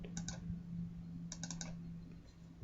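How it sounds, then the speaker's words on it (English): Typing on a computer keyboard, two short bursts of quick clicking keystrokes, close but faint, over a low steady hum. "we'll type in the name"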